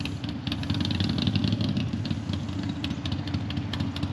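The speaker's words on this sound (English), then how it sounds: "Just a motorcycle." Motorcycle heard outdoors, its engine a steady rumbling drone that stays loud and close for about four seconds with slight rises in intensity, no talking over it.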